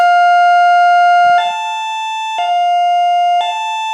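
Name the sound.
railway level crossing alarm in video game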